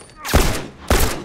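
Two sharp, loud gunshot bursts roughly half a second apart from combat in The Last of Us Remastered, each a close, crackling report with a brief tail.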